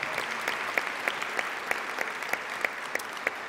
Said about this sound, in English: So give those folks a nice round of applause as well.